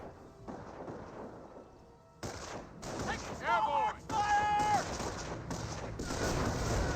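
Artillery shells slam down in a Company of Heroes 1 match between US and Panzer Elite forces, heavy booming impacts and crackling gunfire rolling in repeated bursts while a commentator talks over the battle.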